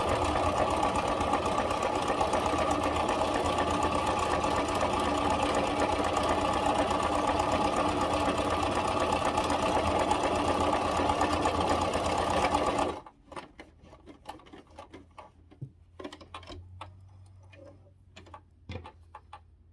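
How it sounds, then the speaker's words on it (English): A sewing machine stitches a scarf in one long, loud, steady run of rapid mechanical clatter, then stops abruptly, leaving scattered quiet clicks and handling sounds. "so I'm just going to continue stitching"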